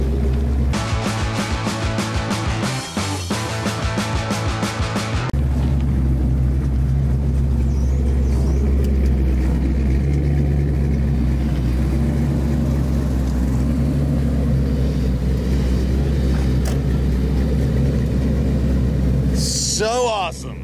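A red Foxbody Mustang with a 5.0 V8 rumbles steadily at close range, a deep low idle running the whole way, broken early by a short burst of rhythmic higher-pitched revving, while people talk excitedly over it.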